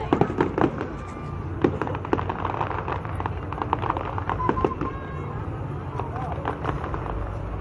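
Fireworks burst repeatedly in dense, irregular pops and crackles at moderate distance, a continuous barrage running throughout while people talk over it.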